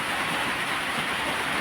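A continuous wash of heavy rainfall, a thick, even roar with no pauses or speech.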